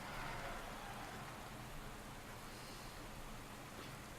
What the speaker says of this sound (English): And so we're not only in the rain